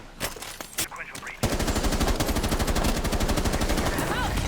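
Rapid gunfire in Rainbow Six Siege, shots punching through a wall: after a brief stretch of voices, a loud, steady automatic burst sets in and runs to the end, with a person speaking over it at the start.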